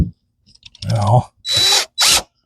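DeWalt power drill driving a screw into a Chevy Express campervan frame, three short close-up bursts of whirring, the first rising from a slower start, with a voice briefly heard.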